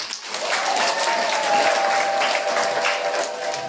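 A church congregation claps together for Jesus, a sustained wash of applause from many hands filling the room at moderate loudness.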